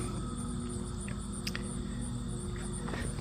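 Yellow jackets hum in a steady, dense drone around an entrance hole into a basement, the buzzing constant and fairly close, with faint brief higher flickers from insects passing near.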